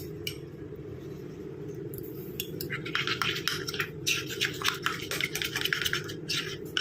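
A spoon mixes gram flour and potato juice into a paste in a bowl, giving soft scraping strokes and light clinks against the bowl over a steady low background hum, with no talking.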